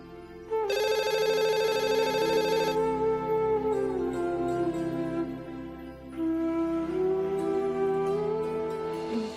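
A telephone rings indoors in a household scene, a loud electronic ringtone with bright repeating tones that starts sharply, holds steady, then shifts to a lower warbling pattern over about nine seconds; no one speaks.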